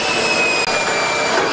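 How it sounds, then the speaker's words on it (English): A steady high-pitched whine of a power drill boring a hole through a Sprinter van body for conduit, running continuously, loud and close, with a brief dip partway through. "gonna drill a hole big enough for the conduit to come out here"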